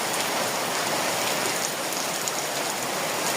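Heavy rain pours steadily and loudly, a dense continuous hiss of drops striking surfaces close by, with no voices over it.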